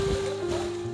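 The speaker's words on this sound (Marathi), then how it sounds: "मंडळी, मस्त वारा सुटलाय बघा ना" A brisk breeze sweeps through an outdoor garden in May, a steady rushing whoosh with low buffeting against the microphone and a faint constant hum beneath, continuous and fairly loud for the whole moment with no voices.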